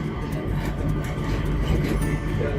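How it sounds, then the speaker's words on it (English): The Changi Airport SkyTrain rolls along its guideway, heard from inside as a steady, loud rumble with faint rattling and no talk over it. "I'm on a SkyTrain"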